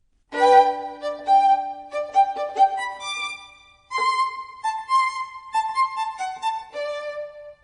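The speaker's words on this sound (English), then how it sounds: "Perhaps you already know the violin. It has 4 strings that are played using a bow." A solo violin plays a short melodic phrase, bowed notes clear and close, pausing briefly before continuing with a second phrase.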